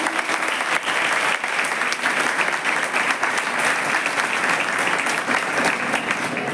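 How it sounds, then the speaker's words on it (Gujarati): Loud, sustained applause from an audience at a Gandhi Jayanti quiz celebration, dense and steady throughout. "જોરદાર તાળીઓ થઈ જાય."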